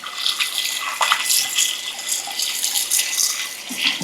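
Tap water runs steadily into a sink over beef being rinsed in cold water, a close splashing hiss with small irregular spatters as the meat is moved about.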